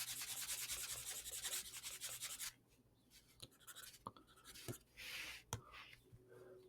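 Pen or marker rubs and scratches across paper while code is written out by hand, a dense stretch of continuous strokes followed by quieter separate scribbles and taps, close and faint.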